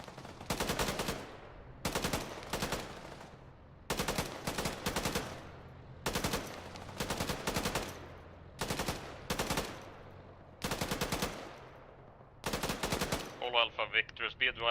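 Bursts of automatic gunfire in Arma 3, about eight loud, sharp volleys of rapid shots separated by short pauses, ending in a faster, thinner rattle, with no talking over them.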